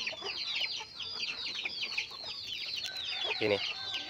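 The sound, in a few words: chickens clucking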